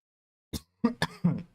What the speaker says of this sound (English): I've been coughing really badly.